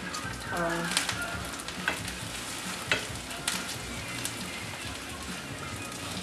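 Shallots sizzling in a pan with brown sugar, a close, steady frying hiss with occasional stirring clatters and scrapes, no voices over it.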